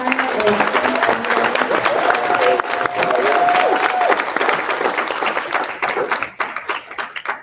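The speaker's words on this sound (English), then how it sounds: "Can we give a round of applause to Mayor Turner" A crowd at a youth town hall fireside chat applauds Mayor Turner with sustained, dense clapping and a few cheers. It thins and fades toward the end, and a brief higher tone sounds over it early on.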